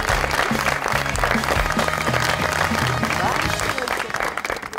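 Studio audience on a talk show applauds steadily to welcome a superstar guest from Karachi, a dense continuous patter throughout with a host's voice and low music running beneath.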